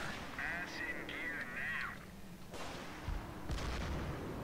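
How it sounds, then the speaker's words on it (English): Heavy mortar team firing in Company of Heroes, a World War II strategy game: dull distant thumps and booms around the midpoint and near the end, under game ambience, unit chatter and someone speaking. "And that's a heavy mortar team."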